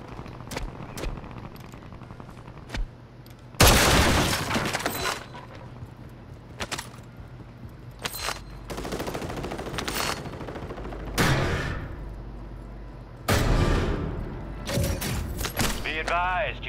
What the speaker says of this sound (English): what is these folks shooting at, bro?